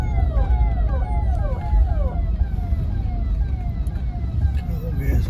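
A wailing emergency siren from a police or ambulance convoy on the road between Jaunpur and Lucknow sweeps up and down repeatedly over constant loud traffic and engine rumble.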